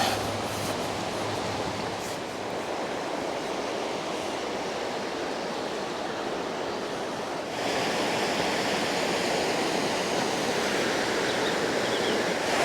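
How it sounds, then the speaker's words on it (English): The River Tees rushes past in a steady, broad roar of flowing water, close and continuous, with a slight shift in texture partway through and no voices. "This river is amazing. So this is the River Tees."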